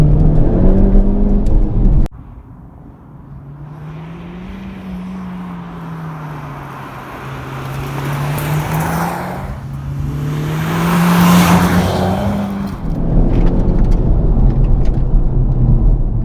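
A 2018 Honda Civic Type R engine pulls hard through the gears, a rising drone interrupted by a shift dip, then climbing again with a loud rush of revs and intake noise from inside the car.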